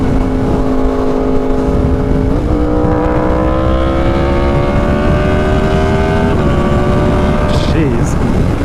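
Yamaha R1 motorcycle fitted with an SC Project CR-T exhaust, ridden hard: loud, close, continuous engine roar rising steadily through the gears, with brief drops at each upshift and a sharp pop near the end.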